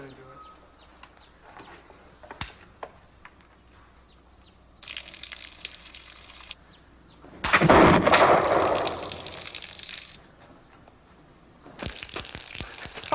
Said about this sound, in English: Another bullseye! Good shot.